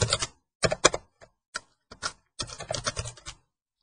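Quiet, close keystrokes on a computer keyboard come in several short clattering bursts separated by brief pauses, with a longer run of rapid typing toward the end.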